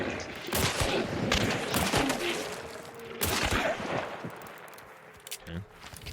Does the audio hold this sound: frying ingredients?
no